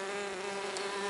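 A mason bee buzzes steadily at its nest tunnel in a piece of oak wood, a close, continuous droning hum with no breaks.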